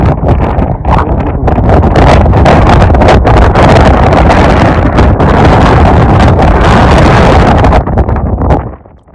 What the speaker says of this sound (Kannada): ನೋಡಿ ಗಾಳಿ ಸೌಂಡ್ ಇಷ್ಟಿದೆ ವಾಯ್ಸ್.